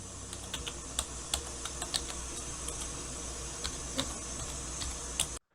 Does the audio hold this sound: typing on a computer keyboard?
yes